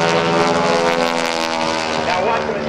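Propeller-driven primary trainer aircraft of the type flown by Army Air Corps and Navy cadets, performing at the 2009 NAS Oceana airshow, its engine droning loud and steady throughout with crowd noise and talk mixed in.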